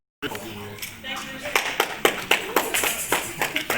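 An audience at a church relationship and marriage workshop claps in a loose burst of sharp slaps that grows more distinct toward the end, over a background murmur of voices.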